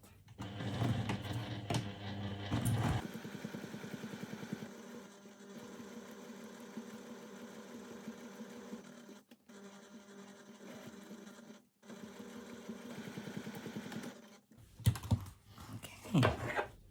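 A sewing machine runs in steady bursts while edge stitching a cotton wallet, its fast mechanical chatter close and loud, stopping briefly between runs, with rustling of fabric at the start and end.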